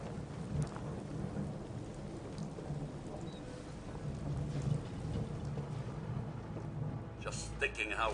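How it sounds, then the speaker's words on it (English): Steady rain and rolling thunder from Fallout 4 on PC in survival mode fill the scene, a continuous broadband downpour with low rumbles underneath, plus a brief clattering sound near the end. "how wonderful it'd be to get out of this infernal rain"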